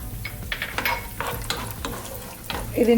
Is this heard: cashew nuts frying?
yes